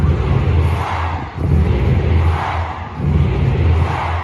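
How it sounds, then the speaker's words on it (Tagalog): A large crowd at a political rally roars and shouts in continuous swelling waves, loud and dense, with brief dips between surges. "Yan sigawan"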